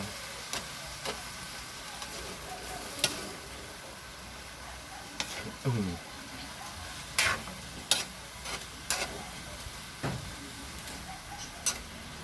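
Sautéed bottle gourd (upo) being stirred in a pan for ginisang upo: scattered scrapes and clinks of a utensil against the pan over a faint, steady sizzle, with no talk.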